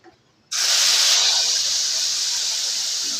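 Mustard seed paste mixed with spices dropped into hot oil for an elephant apple fish curry, bursting into a loud, steady sizzle after a brief quiet start and holding close and strong throughout.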